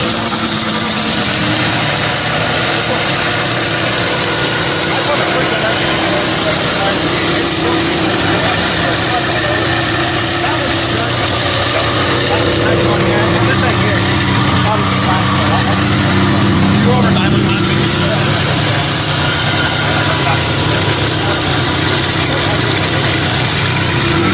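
A vintage snowmobile engine running at an outdoor vintage sled gathering, a loud, steady rough idle with a constant buzzing drone close by throughout, with people talking in the background.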